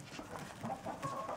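Laying hens cluck softly in a winter coop while being fed greens sprouted from a grain mix, with several short, faint clucks and murmurs overlapping in an irregular rhythm.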